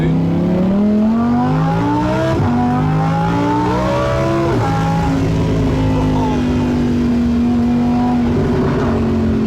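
Lamborghini engine under way on the road, loud and close, revving through rising gear sweeps with shifts and a steady high drone, filling the whole stretch.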